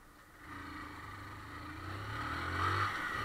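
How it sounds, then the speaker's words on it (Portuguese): A motorcycle engine drones while riding in Boa Viagem, a low steady hum that gradually swells and rises in pitch as the bike accelerates, with road and wind noise around it. "E a galera quer se ter emoção, a zoada da moto"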